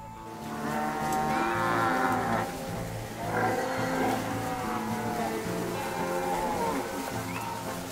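Cattle mooing as they are driven back along a farm track to a remote pasture, several long, loud lowing calls one after another, close by, over steady outdoor background noise.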